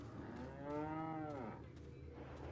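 A single long cow moo from the video game Resident Evil 4, drawn out and rising then falling, heard over a steady low background hum.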